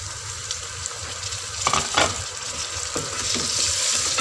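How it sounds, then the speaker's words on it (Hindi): Chopped tomatoes frying with onions in a pan, a close, steady sizzle with a few soft stirring clinks and scrapes midway. No voices are heard. "तो टमाटर नरम होने तक हम इसको पकाएंगे"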